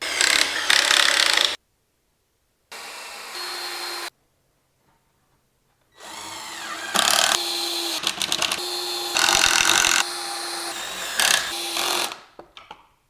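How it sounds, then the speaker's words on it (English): An impact driver whirs loudly in repeated bursts as it drills into wood for a chicken coop, with short silent pauses between runs and a ratcheting rattle. "I am using my impact driver for drilling and my drill for screwing"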